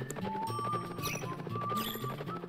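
A horse in the Wild Arms video game runs with a steady clip-clop of hooves, moderately loud over game music, with a couple of brief higher whinnying cries.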